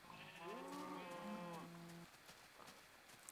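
Cows moo in Minecraft, one long, clear lowing call that swells and then trails off against a quiet background, followed by a stretch of near silence.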